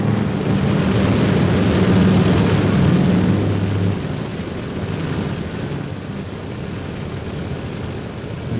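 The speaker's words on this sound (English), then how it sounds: "That helicopter in the background is ditch patrol." A steady helicopter drone fills the background during the 1951 Korean War, a continuous whirring roar that eases slightly partway through, with no voices.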